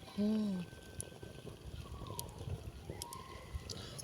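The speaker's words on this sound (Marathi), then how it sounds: "उकळी पुढे लागली" Water boils in a pot over an open outdoor fire, a faint, steady bubbling and simmering texture, with a brief voice near the start.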